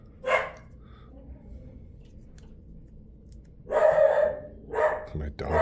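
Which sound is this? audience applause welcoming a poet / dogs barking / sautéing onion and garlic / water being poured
dogs barking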